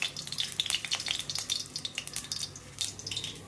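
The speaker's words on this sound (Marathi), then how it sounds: "एवढं सगळं बारीक चिरून फ्राय करून घेणार आहे." Chopped tomato, onion and ridge gourd sizzle and crackle in a little oil in a hot kadhai, with quick, uneven popping spatters close up and no talking.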